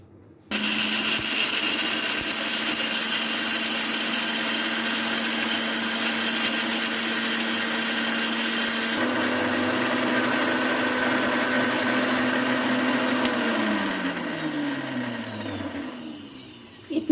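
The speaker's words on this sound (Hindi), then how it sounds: "मसाला ठंडा हो चुका है, अब हम इसको अच्छे से ग्राइंड कर लेंगे" An electric mixer grinder whirs steadily, grinding cooled homemade biryani masala spices with a loud, continuous motor drone that changes pitch partway through, then winds down and stops near the end.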